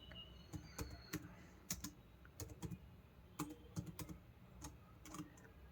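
Typing on a computer keyboard while entering an Excel formula, with quiet irregular bursts of sharp key clicks, close and faint, and no talking.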